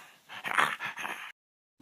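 A dog whimpers indoors, giving a close run of high whines and soft yips for about a second before going quiet.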